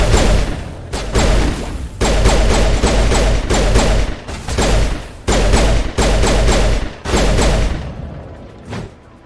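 Gunfire in the Mass Effect Legendary video game, with dense fusillades in repeated bursts of about a second each and heavy low thuds, loud and close, separated by brief gaps.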